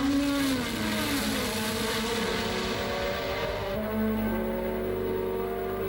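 Formula 1 race cars, a McLaren and a Williams, scream past at Silverstone in 1985, high-pitched engines howling and shifting pitch as they pass, with a steady mechanical drone beneath.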